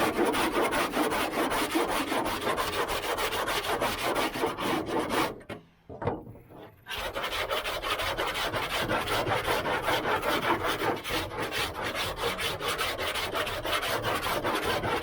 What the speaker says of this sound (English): you'll be sanding the rest of it flat.